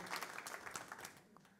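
A church congregation applauds in a brief, dense burst of clapping that thins out toward the end.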